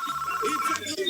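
An unanswered telephone rings in a quick repeating electronic trill, steady and mid-level for under a second before stopping, with a busy background beneath it.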